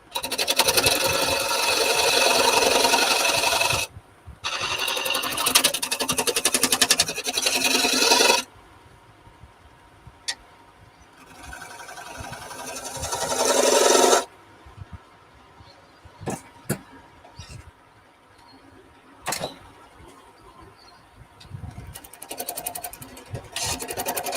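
A hand saw cuts the tenon off a wooden workpiece in two long bursts of rasping strokes, followed by quieter scattered knocks and shorter scrapes in a workshop.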